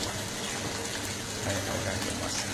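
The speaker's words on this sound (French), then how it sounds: "je ferme le robinet et ça reste" Water runs steadily from a tap in a continuous gushing stream, close and fairly loud, with no speech over it.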